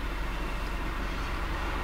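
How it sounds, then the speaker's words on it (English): A FedEx delivery truck passes by with a steady, loud low rumble of engine and road noise that holds constant throughout, with no voices. "It's a FedEx truck."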